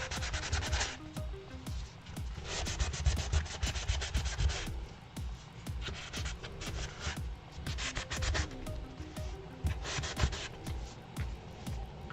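Sandpaper roughs up a painted piece in close, continuous back-and-forth scratching strokes, rhythmic and fairly loud, with brief pauses between passes.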